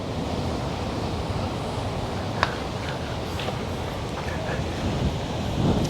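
Strong ocean waves rolling onto a beach, a continuous loud surf roar with wind buffeting the microphone, with a brief sharp click partway through.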